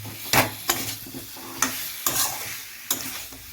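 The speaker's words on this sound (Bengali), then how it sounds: "এই যে কেটে রাখা আলুগুলোকে এর মধ্যে দিয়ে একটু কিছুক্ষণ আলুর সঙ্গেও মশলাগুলোকে আমি ভাজবো" Cut potatoes frying with spices in a pan, a low sizzle punctuated by five or six sharp, close stirring scrapes of a spatula at uneven intervals, without any talking.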